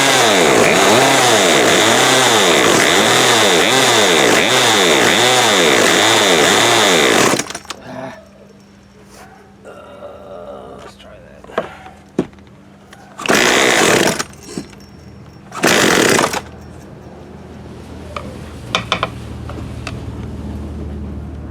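A Poulan Pro 42cc PP4218A chainsaw engine runs loud and close with a rising and falling rev for several seconds, then cuts out, leaving quiet handling noises and a few brief loud sputtering restart attempts.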